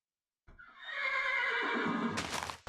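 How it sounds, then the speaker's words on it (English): A single horse whinnies in a modded video game, loud and shrill, its cry sliding downward before ending in a brief clatter. "Horses actually make terrifying sounds."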